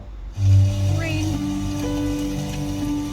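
Rain ambience played from the sound menu of a 2026 Kia Niro EX Premium: a steady, soft patter of rain on a surface continues evenly throughout, with a gentle tonal hum underneath.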